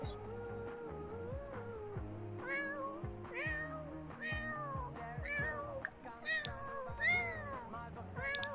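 A tailless cat in The Sims life-simulation game meows repeatedly, a string of clear, close, drawn-out meows over soft game music, with no talk.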